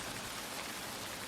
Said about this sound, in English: For now, the rain continues.